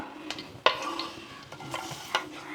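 Ginger garlic paste, chopped green chili and curry leaves frying in coconut oil, with a few sharp spatula taps and scrapes against the pan over a faint sizzle, quiet and close, no talking.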